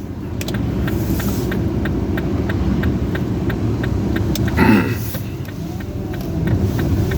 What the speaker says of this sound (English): I think somebody's car stopped.